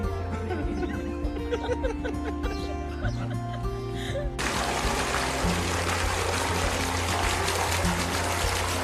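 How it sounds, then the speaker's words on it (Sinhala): Water pouring from a small tank into a farm along the Wadi Shawka trail, a gurgling trickle that turns into a louder, steadier rushing flow partway through, heard up close. "මේ මෙතන මේ පොඩි ටැංකියකින් වතුර දෙනවා මේ ෆාම් එකට"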